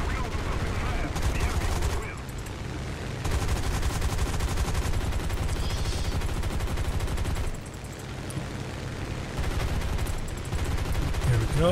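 Gunfire in War Thunder, sustained rapid bursts of shots in long loud volleys with short pauses between them.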